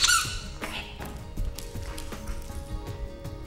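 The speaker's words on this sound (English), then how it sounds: "Squeak the toy before throwing it." A plush squeaky dog toy squeezed once with a sharp squeak at the start, followed by faint taps, thumps and rustling handling noises in a quiet room.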